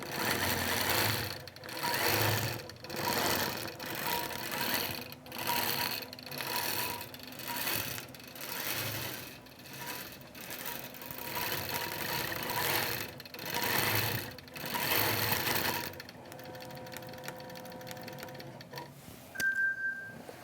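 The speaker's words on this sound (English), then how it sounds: "I can just push quilt again, and it will go over and quilt that other little border around it" A sewing machine quilts around the border of a quilt, running in a continuous pulsing mechanical whir for most of the stretch before dropping to a quieter hum and a short tone at the end.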